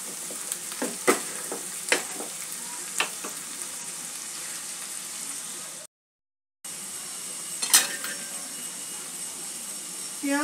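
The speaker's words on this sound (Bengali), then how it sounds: "পেঁয়াজ আদাটা যতক্ষণ কষছে" Onion, garlic and ginger sauté in a pan for egg curry, a bright continuous sizzle with repeated sharp spatula scrapes and taps, close by, briefly cut to silence midway before resuming.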